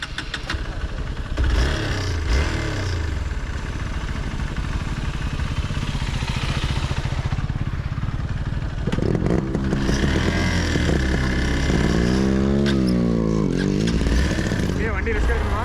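A Hero XPulse motorcycle labors uphill on an off-road hill trail, its engine droning steadily and then revving harder with rising and falling pitch, close up, while riders talk over it.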